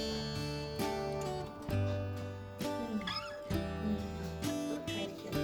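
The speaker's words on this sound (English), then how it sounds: "It's the cat." A cat meows repeatedly in short, pitched cries close by, layered over sustained tonal background music.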